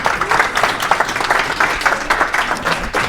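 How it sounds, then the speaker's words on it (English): Audience applause at a Tech Alley Henderson business pitch meetup, a steady dense patter of many hands clapping throughout, moderately loud and close, with no speech over it. "Round of applause for Charlotte, everyone."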